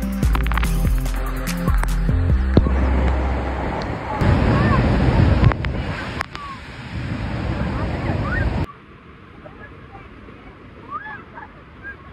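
Niagara Falls pounds close by at the Hurricane Deck, a loud, dense roar of crashing water with wind buffeting the microphone, then dropping to a softer wash near the end.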